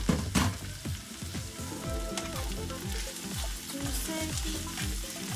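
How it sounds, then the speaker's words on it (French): Fish cooks gently with onions in a pan, giving a steady close sizzle and crackle along with frequent scraping stirs and occasional clatters, with no talking. "Je laisse à cuire les poissons doucement avec les oignons ensemble."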